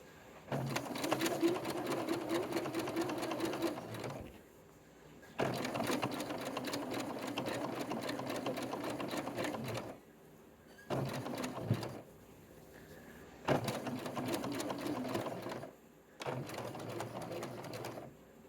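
Domestic sewing machine stitching a garment seam in bursts: several runs of fast, steady mechanical chatter, each a few seconds long, separated by short pauses, close and clear with no talking.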